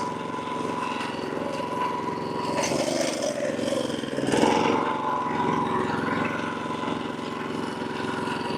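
A lawn mower makes passes over a bumpy zoysia lawn after verticutting, its engine droning steadily at moderate loudness and swelling briefly midway with no speech.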